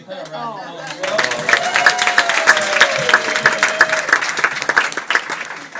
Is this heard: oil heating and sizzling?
no